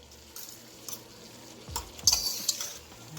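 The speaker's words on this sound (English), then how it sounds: "this is kind of simmering. So it's not on high, it's on medium" Food simmers in a pan on medium heat for a Moroccan-style dish, giving a faint, steady low sizzle with a few soft clinks and a brief louder scrape near the end.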